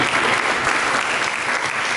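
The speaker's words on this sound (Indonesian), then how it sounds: "Berikan tepuk tangan bagi Yesus" A church congregation claps together for Jesus in dense, steady applause that fills the whole stretch, loud and close, with no pause or voice rising above it.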